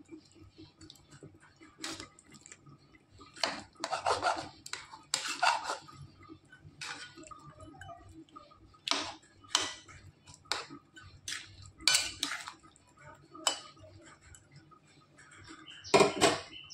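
A spatula knocking and scraping in a cooking pan as it splits hilsa fish heads and bones, giving scattered sharp clacks at irregular intervals over a quiet background.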